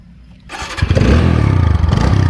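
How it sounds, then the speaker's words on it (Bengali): A TVS Apache RTR 4V 160cc motorcycle, ABS model in fresh condition, starts up after a quiet pause, then settles into a loud, close, steady pulsing idle, heard alone with no talk. "তো এখন আমি আপনাদেরকে বাইকটি স্টার্ট করে সাউন্ড কোয়ালিটিটা দেখে দিচ্ছি"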